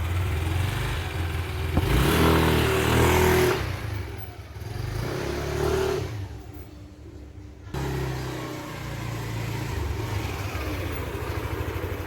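Yamaha All New NMAX 2021–2022 scooter after a CVT roller and spring change, its engine revving up and easing off several times, sounding moderately loud and close with a steady idle between the rises.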